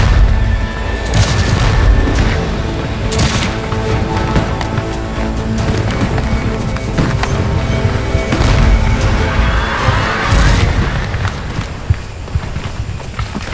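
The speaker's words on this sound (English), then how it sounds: "the crash of Union muskets breaks out on our right" Union muskets crackle in a dense, continuous volley during a documentary reenactment of the Battle of Gettysburg, loud and close, with sharp reports and booms layered over a rumbling battle din.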